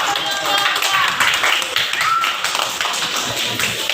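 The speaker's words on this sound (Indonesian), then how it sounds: "anak ibu tepuk tangan" Schoolchildren in a classroom clap together, a quick, busy patter of small hands at close range, with some voices mixed in.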